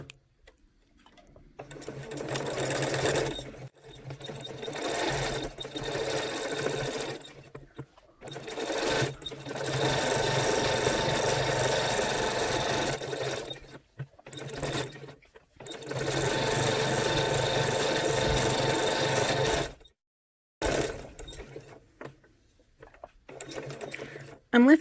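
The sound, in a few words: sewing machine stitching cloth wipes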